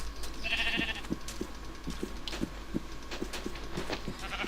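Sheep bleat repeatedly in a video game over a low hum, with rhythmic soft footstep-like taps and occasional short game-style chimes, no talking.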